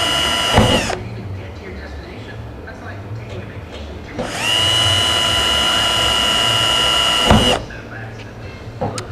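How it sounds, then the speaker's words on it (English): A power drill bores holes in the skin of a Zenair amphibious float kit, heard close up: a short burst, then a long steady run of about three seconds, then another brief burst. "we can drill in between those"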